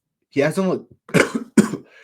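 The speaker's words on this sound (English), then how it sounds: "I got a little bit of a cough." A person coughs a few times in short bursts, close by, with a voiced, throaty quality like clearing the throat.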